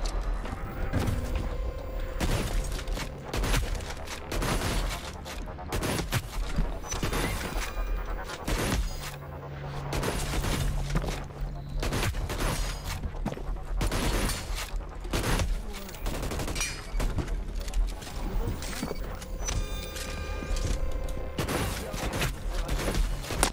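Gunfire in the Hyper Scape video game: repeated sharp shots and rapid bursts fire almost nonstop, loud and close, mixed with mechanical clanks and crashing effects.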